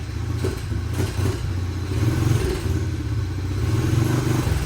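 A small Honda CRF dirt bike engine with full exhaust idles steadily up close, a low, even putter with slight rises in revs and no talking.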